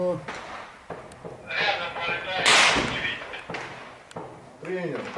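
A few sharp, distant gunshots crack out amid muffled voices talking, with rustling and outdoor background noise between the shots, during combat between militia and army in Ukraine.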